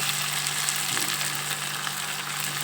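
Potatoes frying in a pan for a Telugu potato curry give a steady, even sizzle that holds at one level throughout, close by, with no talking.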